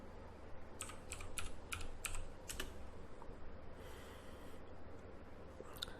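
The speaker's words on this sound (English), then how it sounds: "Enter your admin password." Quick, light keystrokes on a computer keyboard as an admin password is entered during SD card flashing, a short burst of clicks close by and fairly quiet, followed by a hissing lull.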